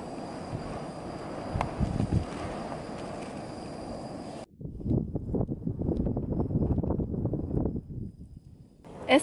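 Wind buffeting a microphone at an outdoor camp in Mongolia, a rough blustery roar with gusty surges that drops out abruptly midway, then returns in choppy bursts.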